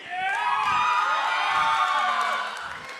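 Middle school students yell and cheer loudly as a crowd, a sustained burst of high excited shouting that swells and then fades slightly after a few seconds.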